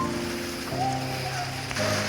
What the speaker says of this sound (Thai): ตอนนี้ฝนกระตกมาแล้ว